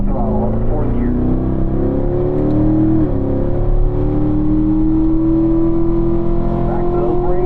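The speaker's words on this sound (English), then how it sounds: "Squeezing on that throttle up to 4th gear." Race car at a driving school track accelerating hard and shifting up to 4th gear, a loud continuous engine roar with rising pitch, a brief dip at the gear change, then climbing again.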